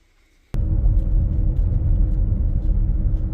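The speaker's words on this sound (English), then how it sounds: "This normal Sunday traffic." Sunday road traffic on a windy day: after a short quiet start, a steady low rumble of passing cars rolls in and holds, fairly close and continuous, with no voices.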